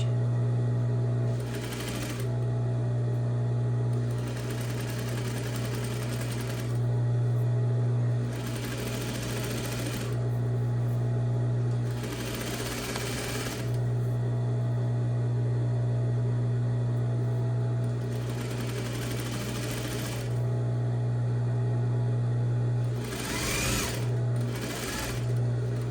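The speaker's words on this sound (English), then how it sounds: "So I'm going to go ahead and stitch at a 1/2 inch." A sewing machine stitches a sleeve seam at a half-inch allowance in repeated steady runs of close mechanical whirring, each a few seconds long with short pauses between, near and alone.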